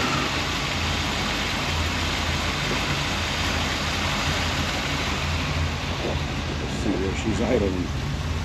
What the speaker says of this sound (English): She's idling.